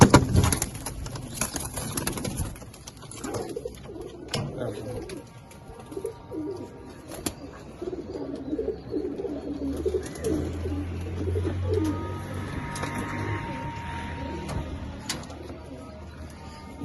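A Ferozpuri pigeon pair coos in soft, repeated rounds of throaty cooing, fairly close by, with scattered clicks and handling noises throughout the clip.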